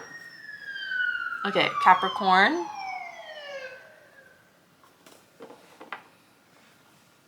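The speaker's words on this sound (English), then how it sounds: "What is with the sirens?" A police siren wails in a sweeping tone outside, fading downward and trailing off, with a person speaking briefly over it.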